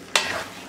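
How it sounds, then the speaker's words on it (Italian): Linguine is stirred in a pan, a short burst of wet, creamy sloshing and sizzle that fades quickly, close and alone. "Mescolo."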